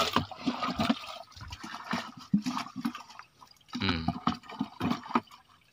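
A stick stirs a magnesium sulfate and urea solution in a pot of water, giving repeated sloshing, swishing splashes at close range in an irregular rhythm.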